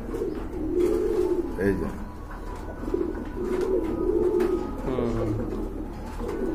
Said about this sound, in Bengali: এটা কিন্তু ভাই নতুন কবুতর